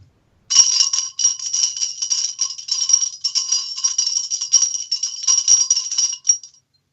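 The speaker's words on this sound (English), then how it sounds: "Here's glass wind chime number 2." Glass wind chimes ring continuously for about six seconds, a dense shimmering cluster of bright tinkling strikes with fluctuating intensity, heard alone and close, then fading out.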